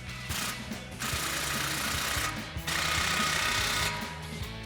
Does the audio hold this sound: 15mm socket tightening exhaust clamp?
yes